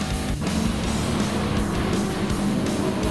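A racing car in the GT Sport game roars continuously as it spins sideways on the grass, a dense, loud engine and tire rush with no gaps.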